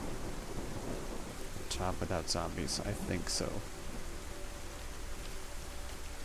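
Steady hissing rain falls in the video game DayZ, a continuous wash of noise with a low thunder-like rumble, while someone speaks briefly in the middle.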